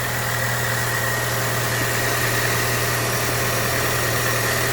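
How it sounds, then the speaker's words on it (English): The 1.4 turbo engine of a 2013 Opel Astra J with an oil leak idles steadily, a low, even hum with a constant mechanical drone and no revving, close by and alone. "Okay, so the car idles."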